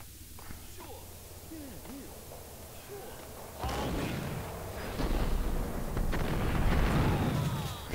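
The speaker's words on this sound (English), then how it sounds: "I have 41 bullets for the shotgun. I'm just gonna use it." Shotgun fire in the dark level of the Max Payne video game, quiet at first and then a loud, dense burst of booming blasts that carries on for several seconds.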